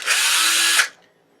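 A handheld power drill spins a tight nut off the leg of an LG dryer in one loud, close whirring burst of just under a second that stops abruptly, followed by near silence.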